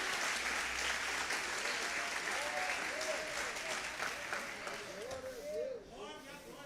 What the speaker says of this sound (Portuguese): Se for para aplaudir Jesus, aplaude com força.